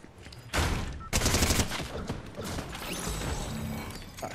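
Shotgun blasts in Fortnite, two sharp loud shots about half a second apart followed by mechanical reloading clicks and softer game noise.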